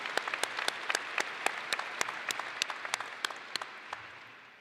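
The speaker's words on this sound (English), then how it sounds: "Let's have another round of applause for today's recognition ceremony, keynote speaker, Dr. Lindsay McMillan Brown." Scattered applause from a commencement ceremony audience for the keynote speaker, with distinct individual claps rather than a dense roar, fading away toward the end.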